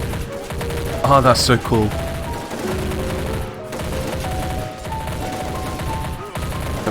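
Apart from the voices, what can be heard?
gunfire from a battle in the video game Army Men Battle Simulator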